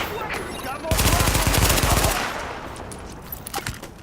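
Sustained automatic gunfire in The Division video game, a dense loud burst of rapid shots lasting about a second, followed by scattered fainter shots and impacts against a noisy background.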